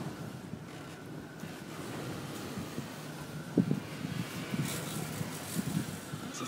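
Steady gusting wind driving rain sideways roars against the microphone, with a constant rushing wash and occasional louder buffeting thumps, no voices.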